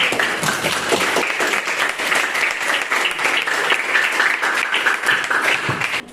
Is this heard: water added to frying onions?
no